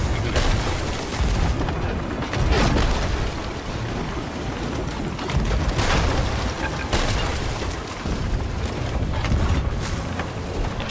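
Ship cannons firing during a galleon battle in Sea of Thieves, heavy booms recurring every couple of seconds over constant rumbling sea and ship noise, loud and dense throughout.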